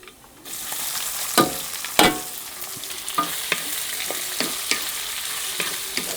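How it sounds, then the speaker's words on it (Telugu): Onion pieces drop into hot tempering oil for cashew upma and fry with a lively, close sizzle, punctuated by repeated spoon clacks and stirring scrapes against the pan, no talking. "ఇవి ఇలా ముప్పై సెకండ్లు వేగిన తర్వాత ఉల్లిపాయ ముక్కలు కూడా వేసేసుకుందాం"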